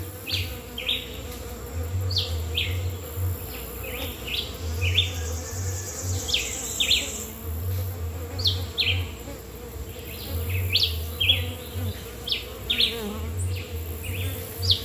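Bees buzz outdoors on a nature walk, repeated close passes that swell and fade over a steady low hum, with a few faint bird calls behind and no talk.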